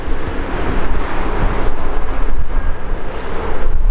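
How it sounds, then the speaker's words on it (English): A loud, broad roar of an airplane passing overhead at London Heathrow airport, steady throughout, mixed with gusty wind rumbling against the microphone. "Love that plane, it's beautiful, isn't it, Thomas?"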